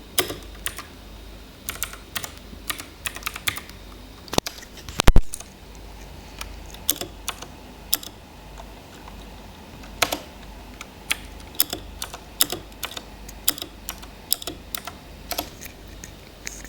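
Keys on a computer keyboard are tapped in irregular close-up bursts, with single clicks and short runs separated by pauses and one sharper knock partway through.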